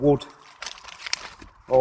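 Paper is added to a compost heap as carbon and crinkles and rustles softly for about a second, with a voice just before and after.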